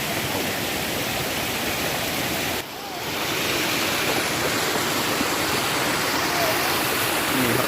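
A loud, continuous roar of rushing water from a nearby waterfall, broad and steady throughout with only a momentary dip.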